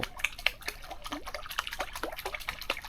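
Flowing water trickles and drips steadily beside a catfish-fishing spot with a bamboo rod, with small splashes and droplets close by and no voices.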